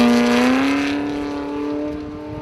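A Formula Offroad car driven by Freddie Flintoff at the 2019 Icelandic Formula Offroad round at Hella, its engine loud and close, holding a sustained throaty roar that climbs steadily in pitch under heavy throttle.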